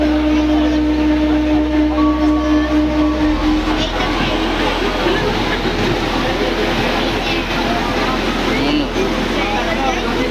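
Interior of a crowded local train moving near Contai on a trip to Digha, with a steady low rumble of the carriage and a constant murmur of passenger voices and chatter all around.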